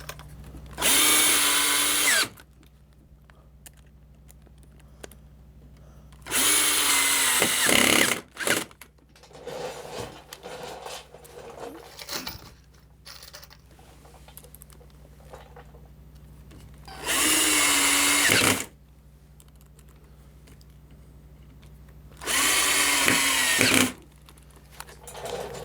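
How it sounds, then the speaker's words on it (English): A power drill drives screws into the wooden base of a model railway layout, with four loud sustained bursts of about two seconds each, separated by quieter gaps that hold faint handling clatter. "now we can put the screws in."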